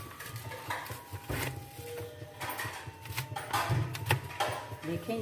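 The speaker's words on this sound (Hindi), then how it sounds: "देखें इस तरह से हम आलू के स्लाइस काट लेते हैं।" A knife slicing potatoes on a cutting board in a home kitchen, irregular close taps and chops with light clatter, while a person talks over it.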